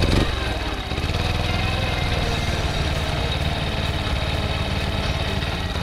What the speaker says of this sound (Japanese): エンジンかかりましたとか、これかかってない、